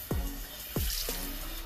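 Beef pieces already cleaned with vinegar are rinsed under running tap water, giving a steady faint splash with a couple of sharper drip-like plops. No one speaks.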